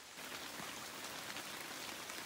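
Steady rain pours down over the Ardèche during a stormy van trip, a dense, even hiss of drops hitting surfaces with no pauses or voices.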